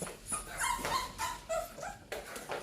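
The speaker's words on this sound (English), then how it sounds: "Mommy and puppies together." A mother dog and her puppies whimper and yip in soft, high-pitched bursts, several short whines overlapping at close range in a quiet room.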